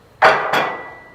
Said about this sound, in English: Take your pipe wrenches, and remove this.